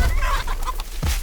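A rooster at a village Sankranti cockfight gives short clucking, crowing-like calls, loud and close over a steady low rumble of crowd and outdoor noise.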